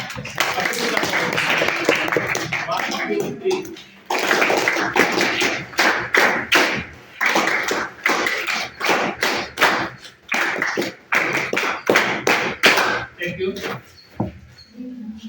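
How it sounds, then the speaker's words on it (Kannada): A classroom of students claps hands together, dense rippling applause with a short pause and repeated bursts of sharp taps, continuing steadily for about fifteen seconds close by. "ಒಂದು ಚಪ್ಪಾಳೆ ಹಾಕ್ತೀರಾ?"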